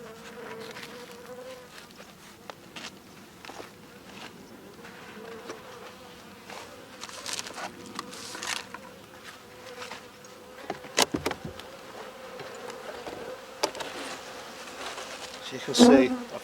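Strong honeybee colony humming in an open hive during a UK beekeeping inspection, a soft continuous buzz with occasional louder passes of individual bees near the microphone.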